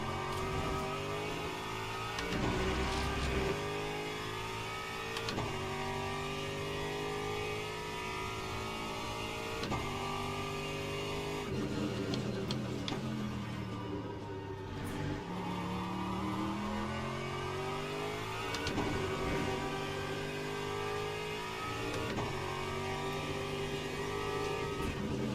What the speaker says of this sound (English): BMW comes into the pits